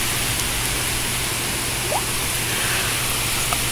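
Heavy thunderstorm rain in the Van Cortlandt area of the Bronx, New York City, a steady, dense hiss that stays even and close throughout, with a few faint drips standing out briefly.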